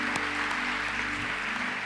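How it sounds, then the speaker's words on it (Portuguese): Audience in a church clapping as a steady, continuous wash of applause, fairly close and even throughout, with a low sustained musical hum underneath. "você desse um aplauso para o nosso Ministério de Mídia"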